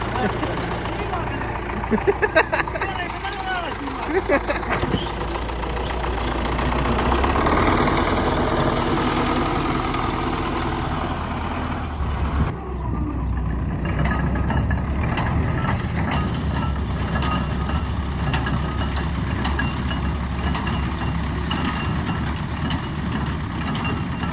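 A vehicle engine on a spring hay-making job runs at a steady, fairly loud idle for about twenty seconds, with a brief shift in tone partway through and people talking over it.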